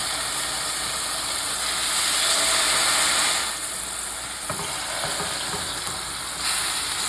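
Lamb loin chops sizzle in an oiled frying pan, giving a steady, close, bright frying hiss that swells briefly and then settles, with a faint clink partway through and no talking.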